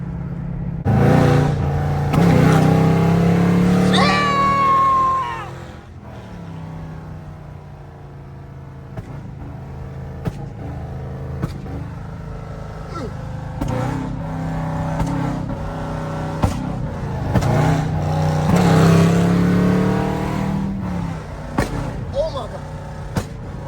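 A loud 5.7 Jeep engine on a night drive revs hard and drops back in repeated surges, sharp pops and crackles breaking through, with someone talking excitedly over it.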